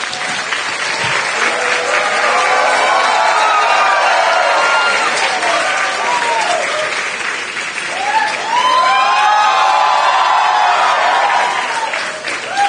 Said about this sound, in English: Now the audience may applaud.